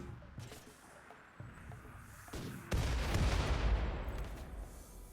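Mortar fire in the video game Rimworld, scattered dull thuds followed by a loud sustained rumbling blast that fills the second half, heavy and continuous, no talking.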